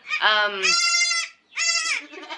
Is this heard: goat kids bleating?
yes